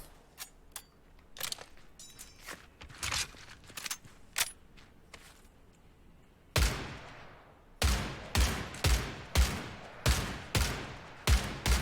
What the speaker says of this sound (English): rapidly firing the Garand's entire magazine will cause its accuracy to be wild